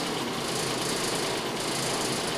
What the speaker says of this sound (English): Dough gets pressed by the rollers, comes around the drum,